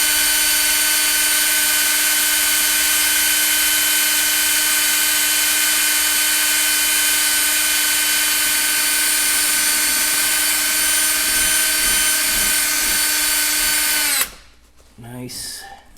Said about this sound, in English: I'm gonna drill a hole over here.